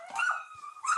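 A puppy yelps and whimpers in a cluttered, filthy house during a police visit, giving high-pitched cries in two short bursts close by, with a quieter gap between them.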